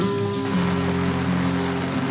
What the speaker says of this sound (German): Der Regen wird stärker.